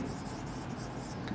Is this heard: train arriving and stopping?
no